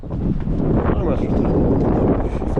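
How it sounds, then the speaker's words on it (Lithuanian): Strong wind buffets the microphone while walking along a main town street, a loud, continuous low rumble that fills the whole moment, with people talking faintly underneath. "O, koks vėjas."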